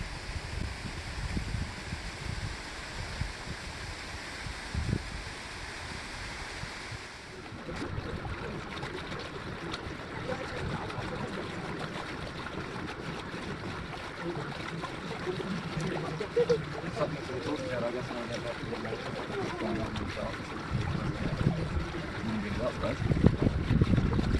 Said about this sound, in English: boat ride across the length of Jezero Kozjak